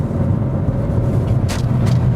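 A car braking hard from 40 mph on a snowy or icy winter road, ABS cutting in: a steady low road rumble with brief hissy bursts late on, close and fairly loud.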